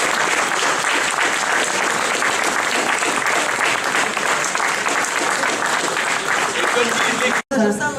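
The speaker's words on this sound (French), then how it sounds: "qu'on les applaudisse encore une fois" Sustained, loud applause from a large conference audience standing in honour of guests, dense steady clapping filling nearly the whole stretch before cutting off abruptly near the end.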